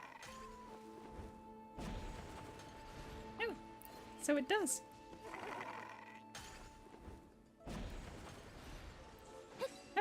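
A goat smashing objects in a video game: bleating calls and crashing impacts come through amid game sounds, with a person talking over them.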